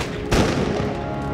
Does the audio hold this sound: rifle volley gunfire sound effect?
yes